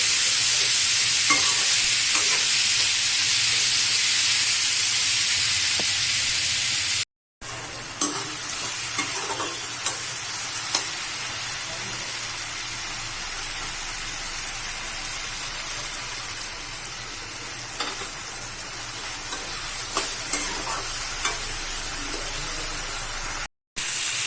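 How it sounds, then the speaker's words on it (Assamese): Tomatoes with salt fry steadily in a hot pan for a tomato fish curry, with occasional scraping stirs and two brief moments of silence; no one speaks. "এনেকৈ ধুনীয়াকৈ মই বিলাহীখিনি গলালৈকে ভাজি লম"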